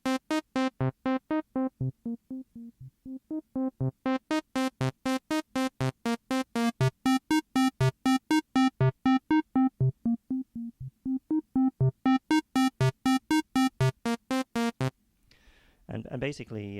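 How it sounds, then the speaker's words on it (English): Native Instruments Massive synth plays a fast, repeating plucked pattern of short notes while the low-pass filter cutoff sweeps down and back up, dulling and then brightening the tone; a voice briefly enters at the end. "As you bring it down on a low-pass filter, it means you're filtering out the highest frequencies first and coming down to the lowest frequencies"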